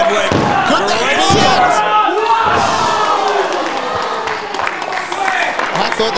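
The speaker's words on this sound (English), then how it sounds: "Oh, big spin, power slam by Chadwick." A wrestler's spinning power slam in an invitational tournament match lands with a heavy thud on the mat amid a roaring, cheering crowd, with excited commentary talking over the noise.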